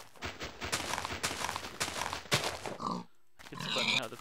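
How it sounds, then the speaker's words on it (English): Minecraft pig grunting in a jungle biome, a series of short close oinks and snorts in quick succession, with a brief pause before a final squeal-like grunt. "Where are you, piggy?"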